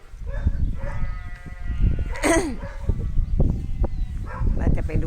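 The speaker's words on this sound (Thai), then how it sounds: "แกะที่โดนตัดแล้วก็นู่นปล่อยออกไป" Sheep bleat on a farm where flocks are being shorn, with one clear wavering bleat near the middle over busy outdoor background noise and low rumbling.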